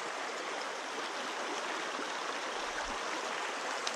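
A tiny wilderness creek flows steadily with a dense, even rush of water, close and continuous, with no voices.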